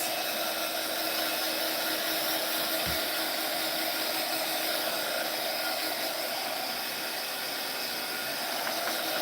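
A hair dryer drying Mod Podge craft pieces runs as a loud, steady blowing whir for the whole stretch, close and unbroken.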